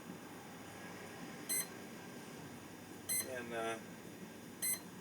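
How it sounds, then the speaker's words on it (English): Electronic beeps from a Freewing 90mm F-22 RC jet's motor with the throttle unplugged, three short high pips spaced evenly over a steady hum, with a brief voice speaking. "I've got my throttle unplugged from the motor, so the motor might sit there and beep."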